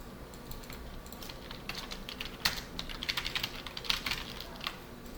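Fingers typing on a computer keyboard while creating a text file, quiet close clicking in uneven bursts with a few sharper keystrokes, no voices.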